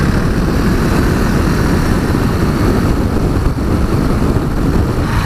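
Husqvarna Vitpilen motorcycle accelerating hard to overtake a Vauxhall Vectra on a country road, a loud, steady engine roar mixed with heavy wind rush, close and continuous throughout.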